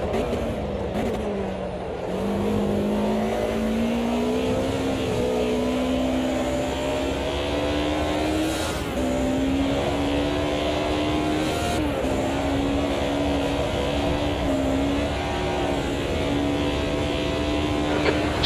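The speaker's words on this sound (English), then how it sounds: "Engine is a bit loud" A race car engine in the Automobilista 2 racing game drones steadily at high revs, its pitch sliding up through gear changes with brief shift breaks, loud and continuous throughout.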